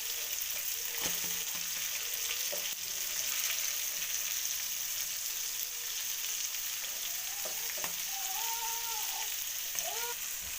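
Bangude mackerel fish frying in a pan, a steady loud sizzle running throughout with occasional spatters and brief scraping touches, no voices.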